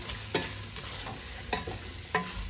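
Tripe sautéing in a pan, a steady close sizzle with a few sharp scrapes and clinks of stirring spaced through it, no voices.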